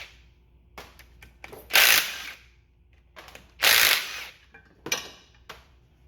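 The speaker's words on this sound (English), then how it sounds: "pulling the 5/16 screws off the front cover" A ratchet backs out 5/16 screws from the front cover of a 1980s Johnson Evinrude 40/50 HP outboard carburetor, heard as several loud bursts of rapid clicking separated by brief pauses, close up with no talk.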